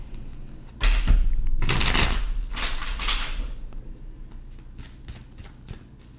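A deck of tarot cards being shuffled close up: a loud riffling burst, then softer sliding and riffle passes, ending in a few light taps as the cards settle, with no voices.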